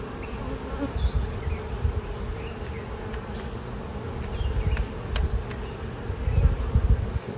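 Honey bees from a package colony buzz steadily and up close during a hive inspection, a dense, continuous drone with swelling passes and a few faint clicks of frames being handled.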